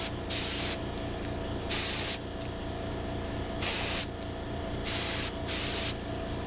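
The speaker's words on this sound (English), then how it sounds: "it's always better to set the gun not to have a heavy spray so you minimize the chance of getting runs on this" A paint spray gun coats a Kawasaki motorcycle wheel during restoration, in five separate loud hissing bursts of roughly half a second each, with a steady low background hum between them.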